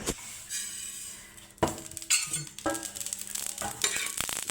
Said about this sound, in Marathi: मस्त असे जवस पण आपण भाजून घेतलेले आणि थोडासा कलर पण बदललेला आहे त्याचा